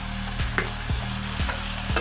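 Raw onion stirred into frying shredded chicken, a loud continuous sizzle with four evenly spaced spatula scrapes, heard up close and without speech.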